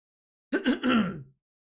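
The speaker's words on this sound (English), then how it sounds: "As I clear my throat." A single person clears their throat in one rough burst with a couple of harsh pulses, close and fairly loud, then silence.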